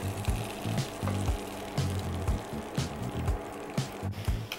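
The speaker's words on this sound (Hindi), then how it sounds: "अब हम अपने ग्रिलिंग पैन में ये बटर डालेंगे. और हम इसमें अब चिकन डालेंगे." Chicken frying in butter in a grilling pan gives a steady, close sizzle with soft stirring scrapes and crackles, and a low tonal hum runs beneath it.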